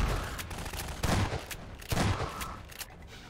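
Shotgun blasts and other gunfire in a Half-Life 2 firefight: loud, punchy reports, several close together, with a dense, echoing spray of shots and no talking over them.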